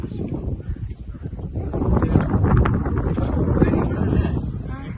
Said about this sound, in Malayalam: നല്ല കാറ്റ് കേട്ടോ, തണുത്ത കാറ്റ്.